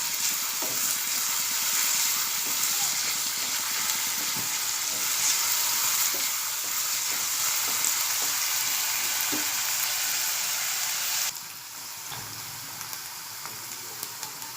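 Bell pepper softening in hot oil gives a steady, close sizzle with occasional stirring clicks, continuing alone throughout and easing slightly softer near the end.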